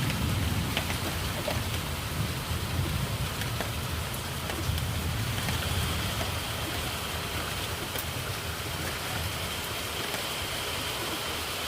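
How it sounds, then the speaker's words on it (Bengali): Steady heavy rain pours onto trees and leafy plants after a hot spell, a dense continuous hiss with scattered drops close by and no voices. "বৃষ্টিটা হওয়ার খুব দরকার ছিল"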